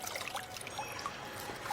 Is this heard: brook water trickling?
yes